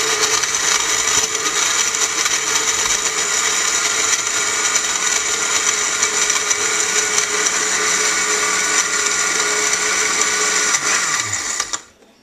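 A blender whirs loudly and steadily while mixing a strawberry banana smoothie, a continuous high motor roar held for about twelve seconds before spinning down and stopping at the end.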